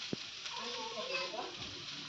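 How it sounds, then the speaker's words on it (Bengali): Kolai greens dropped straight into hot oil for tempering give a steady, fairly quiet sizzle and crackle throughout, with a short thump near the start and a voice talking over it. "একবারে ডাইরেক্ট বাগার দিয়েছি"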